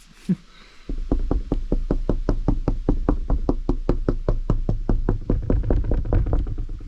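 Steady, evenly spaced knocks on hardened fiberglass laminate on a locker door, about four per second, sharp and solid-sounding, with no talking.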